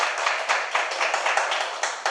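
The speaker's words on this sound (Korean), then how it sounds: "우리 새내기 사회복지사들한테 좀 박수 한번" An audience at a book concert claps steadily, dense and continuous applause with no voices rising above it.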